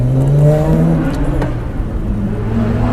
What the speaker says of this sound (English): Now, one more acceleration run right here.